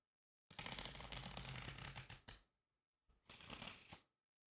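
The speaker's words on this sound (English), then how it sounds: "I'm addicted to shuffling cards." A deck of playing cards is shuffled in two riffle bursts, a long crisp flutter and then a shorter one after a brief pause, close and alone in a quiet room.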